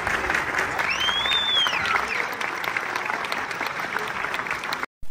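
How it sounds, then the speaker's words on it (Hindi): Audience clapping in a Koraputia comedy film scene, sustained crowd applause at fairly strong level with a brief whistle-like tone early on, ending in a sudden cutout. "ताली मारा सब लोग।"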